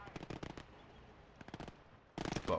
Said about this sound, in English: And then the MGs in the back, along with the rifle grenadiers, are just kind of laying into them.